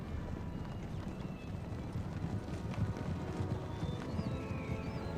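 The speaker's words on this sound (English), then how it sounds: "Cannons are targeting the cavalry charging over here." Cavalry horses charge across the battlefield in the video game Napoleon Total War, a dense rumble of galloping hooves that keeps up a fast, continuous clatter at moderate volume.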